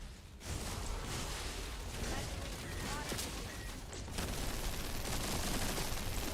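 A whole magazine emptied from a gun in The First Descendant, a dense continuous rattle of rapid gunfire running nearly the full stretch, loud and steady with a brief gap around four seconds.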